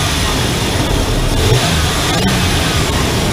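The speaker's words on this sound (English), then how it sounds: "The engine sounds much more better" Car engine running during a mass airflow sensor test, a loud, steady engine drone with a slight rise in revs, close up and continuous.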